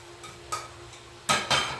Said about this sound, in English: Add the carrots and mix it around